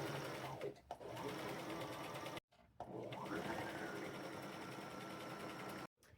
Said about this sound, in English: I'm sewing these from the back side